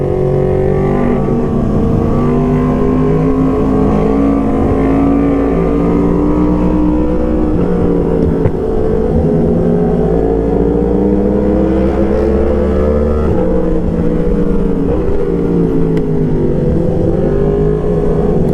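Three motorcycles with cross-plane crank engines rumble and rev together in wet hill weather around Murree. Their loud, overlapping engine notes rise and fall in pitch throughout, close to the listener and without talk.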